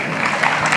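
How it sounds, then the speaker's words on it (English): A brief burst of audience applause at a talk at IIM Bangalore, a dense wash of many hands clapping at moderate distance, lasting under a second. "No, you don't have to clap."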